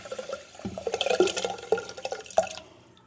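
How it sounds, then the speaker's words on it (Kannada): Soaked foxtail millet and its soaking water poured into a clay pot, heard as a few close splashes and drips against the pot over about three seconds, with no talking. "ನವಣೆ ಅಕ್ಕಿನ ನೀರಿನ ಜೊತೆ ಮಣ್ಣಿನ ಪಾತ್ರೆಗೆ ಟ್ರಾನ್ಸ್ಫರ್ ಮಾಡ್ಕೊಳ್ಳೋಣ."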